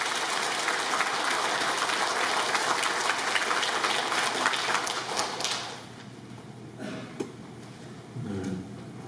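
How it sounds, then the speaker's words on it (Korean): An audience at a Korean church gathering claps steadily, a dense wash of applause that fades out after several seconds, leaving faint shuffling and room noise. "박수로 맞이해 주십시오."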